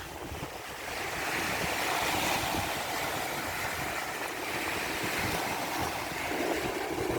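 Strong wind buffets the microphone at South Pattaya beach, a steady roaring rush blended with the constant wash of surf, loud and unbroken with no voices.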